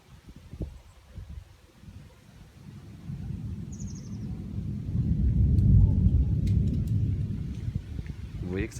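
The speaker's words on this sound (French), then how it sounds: "Vous voyez que ça tonne bien." Thunder from an active summer thunderstorm at Amboise, France, builds into a long, low, swelling rumble that peaks midway and slowly fades, with wind and a brief bird call in the background.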